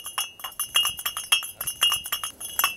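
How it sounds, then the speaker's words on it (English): Bricks clink against each other in a quick, irregular series of bright, ringing taps like fine china, close and fairly crisp, with no talk over them. "create a brick that has the same ring that you would have if you buy fine china"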